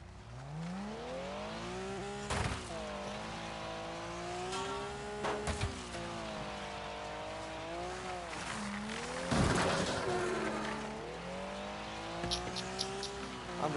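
A dragster's engine in Wreckfest at Dirt Devil Stadium howls steadily, its pitch rising and falling through gear changes, with bursts of impacts and crunches breaking in along the way and faint talk underneath.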